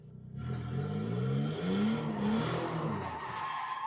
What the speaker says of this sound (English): you gave it some gas, the car began to drift, and you kept on holding the wheel